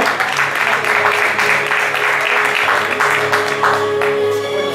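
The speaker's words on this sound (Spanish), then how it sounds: "Por favor, pido un fuerte aplauso." Steady applause from a crowd at a cycling team presentation, continuous mid-loud clapping over a low background hum throughout.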